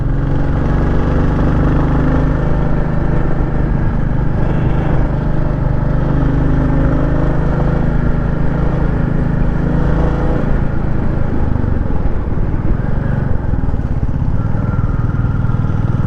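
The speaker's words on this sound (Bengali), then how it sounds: "কি পাওয়ার রে বাবা, পাওয়ারফুল বাইক।" A powerful motorcycle engine drones continuously while riding on a scenic road, a loud, steady low hum with slight shifts in pitch, heard close and alone for the whole stretch.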